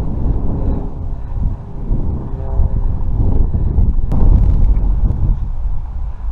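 Strong, steady wind roars and buffets a microphone outdoors during the first flight of a Cross Kites Sonic 7.5 m kite, loud and continuous with no talk.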